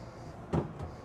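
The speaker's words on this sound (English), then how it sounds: "And all of these are soft close drawers as well." Soft-close drawers in a 2026 Newmar Dutch Star 4369 motorhome slide and settle with two quiet, muffled bumps over a faint steady background hum.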